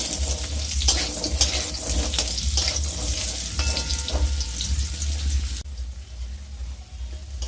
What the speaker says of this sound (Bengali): ওই তেলেই আমি আলুগুলো ভেজে নেবো আলুগুলো লাল করে ভেজে নেব